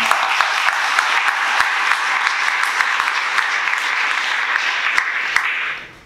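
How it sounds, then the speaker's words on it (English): Audience applause after an artist talk: a full, even wash of clapping from a crowd, sustained for several seconds before quickly fading out. "Please give them a round of applause."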